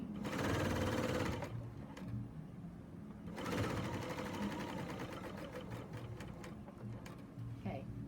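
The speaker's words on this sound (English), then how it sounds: "Another thing that's really nice about using an overlocker is you don't have all those little random threads hanging in your way" A serger overlocker runs in bursts while stitching binding onto a quilt, its rapid mechanical whir stopping and starting close up, with short pauses between runs.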